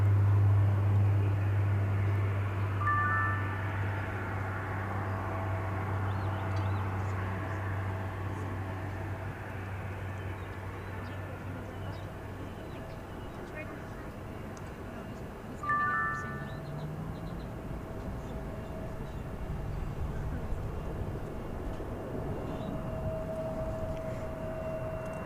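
Airliner taking off from a runway at DFW Airport: a long, broad jet roar holding steady and distant, with a couple of faint chime-like tones partway through.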